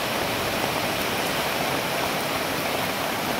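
A river swollen by flooding after heavy rain roars past in a loud, continuous, unbroken rush of water, close by and dominating everything.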